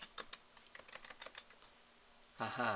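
Quick clacking keystrokes on a computer keyboard, a scattered run of light taps entered at a DOS command prompt, then a voice starts speaking at the end.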